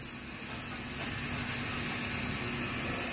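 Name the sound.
onions added to hot oil, sizzling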